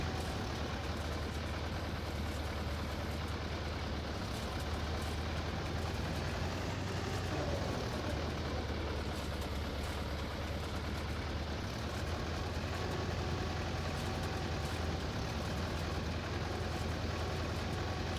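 A small tractor engine in Farming Simulator 22 drones steadily while raking grass windrows on a farm, with a continuous low hum and even mechanical noise throughout and no talking.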